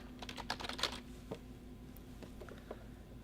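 Typing on a computer keyboard, a quick burst of close, quiet key clicks that thins out into a few scattered taps.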